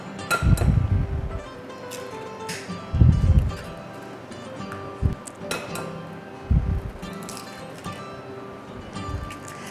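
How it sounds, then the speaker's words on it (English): Three eggs cracked into a bowl, a series of sharp taps and clinks against the rim in separate bursts with soft squishy drops and quiet pauses between them. "So first we're going to crack 3 eggs."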